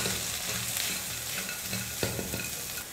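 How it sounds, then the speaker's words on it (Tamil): Egg being stir-fried until crumbly in a pan, with a steady, dense sizzle of oil and occasional scraping spoon strokes, close and continuous, with no talking. "முட்டையை நல்லா பொடி மாஸ் மாதிரி வர அளவுக்கு நல்லா வறுத்துக்கலாம்"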